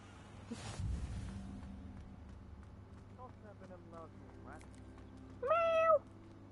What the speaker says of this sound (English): I've got a cat. Meow.